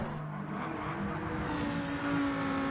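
Lamborghini race cars in a Gran Turismo-style Group 4 race at Trial Mountain, engines droning steadily at close range with a sustained whine and slowly rising pitch, no voices.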